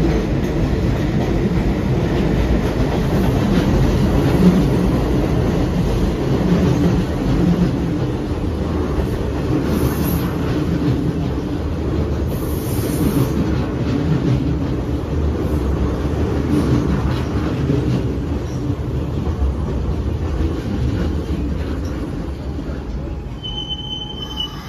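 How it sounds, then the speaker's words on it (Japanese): A Hanshin Railway six-car through limited express arrives at Mikage Station on a sharp curve, with a loud sustained rumble and high steady wheel squeal, joined by occasional clicks of the rails. "ちょうどやってきた直通特急の電車です"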